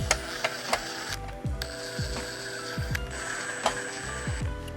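Ratcheting while bolting the engine cover onto a Mega Moto 212 mini bike, rapid close mechanical clicks in quick repeated strokes with a few sharper metallic taps in between.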